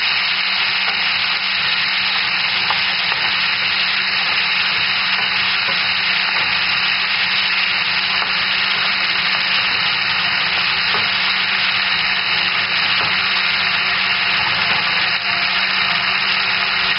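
Tomatoes sizzling and frying in a pan while being stirred continuously for a tomato and besan dish, a steady, dense hiss with no pauses, close and fairly loud, no voices.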